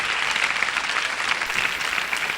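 A studio audience on a TV celebrity chat show breaks into dense, steady applause that holds without letting up for the whole moment.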